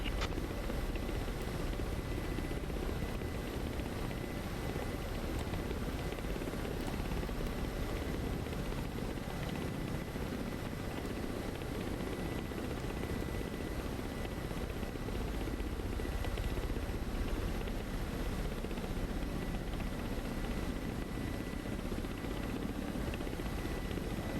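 Ka-50 attack helicopter taking off in a flight simulator over Syria, a steady loud rotor and turbine roar that holds unbroken throughout with no voices.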